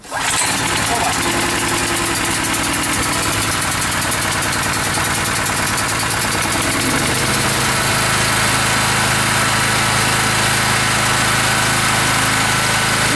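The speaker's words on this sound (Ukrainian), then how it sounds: "Доволі тихо працює, стабільно працює на холостому ходу, показує 230 вольт" An OKAY 2.8 kW generator with copper winding and AVR, started with a sharp pull and then idling, a loud, close, steady engine drone with a shift in pitch as it settles into idle.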